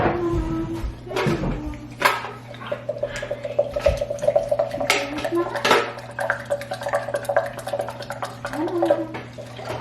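Water trickles into a glass jar of sourdough starter amid clinks and knocks of the jar and utensils, with a short pour in the middle, all close and fairly loud.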